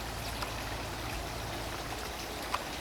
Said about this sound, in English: I have a hose to guide the water out and over the falls there